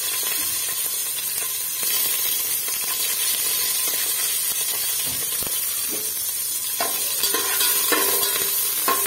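Green chillies frying in a mix of oil and ghee in a pot, giving a continuous loud sizzle with occasional stirring clicks and scrapes, with no talk.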